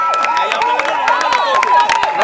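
Crowd cheering and whistling in acclaim at a funeral procession for patriarch Pierre Lumbi in Kintambo, a dense, continuous roar of voices with shrill whistles and rhythmic claps throughout.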